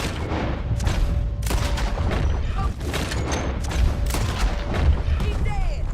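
Gunfire in Red Dead Redemption 2, a dense fusillade of booming shots and thuds going off steadily, loud and close, mixed with game sounds and voices shouting throughout.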